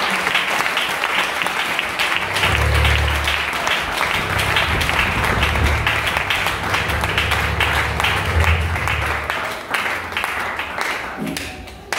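A church congregation applauds to acclaim the Lord with loud, dense, sustained clapping over a low rumbling crowd murmur that holds steady throughout and thins near the end.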